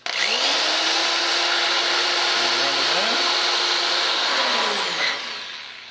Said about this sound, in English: you want to make sure that you take your drill with a little wire brush